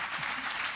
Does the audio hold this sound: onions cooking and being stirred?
no